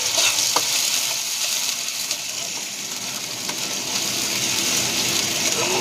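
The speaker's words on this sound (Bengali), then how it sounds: "প্রথমে আমি আলু ভেজে নেব" Potatoes frying in a pan for homemade chow mein, a loud, continuous hissing sizzle close up with faint stirring scrapes throughout.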